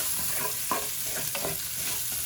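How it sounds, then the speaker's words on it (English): Onions fry with a steady, close sizzle in a pan while a utensil stirs them, adding a few soft scraping strokes over the continuous hiss. "While the onions are cooking, let me distribute them a little bit here."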